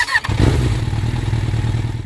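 A motorcycle engine in the mechanic simulator game Biker Garage starts with a brief cranking burst, then settles into a loud, close, steady, throbbing idle.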